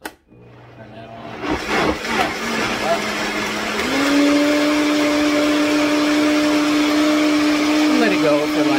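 A kitchen blender grinds fresh coconut for coconut milk, starting abruptly, then settling into a loud, steady whirring whine that holds to the end with a slight pitch shift near the close.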